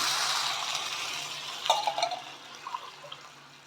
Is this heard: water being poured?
yes